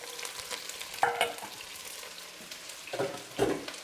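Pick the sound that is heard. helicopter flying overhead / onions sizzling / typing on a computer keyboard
onions sizzling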